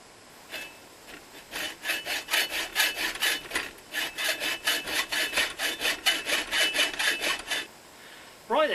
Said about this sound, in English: had a bit of problem with the hacksaw blade because I've been cutting a lot of galvanised steel with it